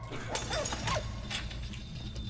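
A lever-started mechanism in the video game Valiant Hearts gives a short run of mechanical clanks and ratcheting clicks over a steady low game hum, with a few sharp knocks close by.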